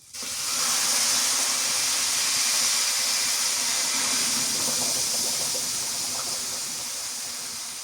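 A loud, steady steaming hiss fills the whole stretch as water hits a hot pot of cooking duck meat and boils off, slowly easing toward the end.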